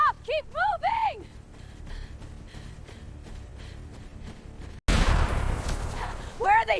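Gunfire bursts out in a loud, dense rush of cracks and booms during an escape through trees toward high ground. Shouted voices come before and after it.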